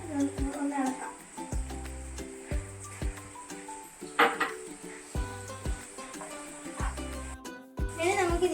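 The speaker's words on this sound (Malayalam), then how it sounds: "ഇനി ഇത് നന്നായിട്ട് ഇളക്കാം നമുക്ക് ഇതിലേക്ക് ചീസ് ചേർത്തെടുത്ത്" Pasta with cheese is stirred in a pan, with repeated clinks and scrapes of a utensil against the pan in an irregular rhythm, alongside a person talking.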